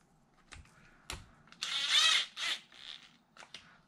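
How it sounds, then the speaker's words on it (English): Screws being tightened on the underside of a Tamiya DR10 RC car, heard as a few sharp close clicks followed by a short whirring, grinding burst of a driver turning, then scattered small taps. "I'm going to flip this over, tighten up the two screws"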